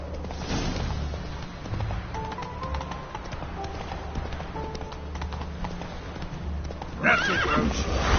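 Roach the horse in The Witcher 3 gallops with steady, rapid hoofbeats under a dense game ambience, ending in a loud, close neigh near the finish.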